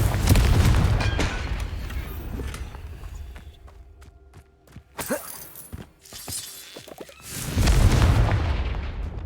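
Confringo spell explosions in the video game Hogwarts Legacy, loud blasts at the start and end with scattered sharp cracks and shattering hits in between.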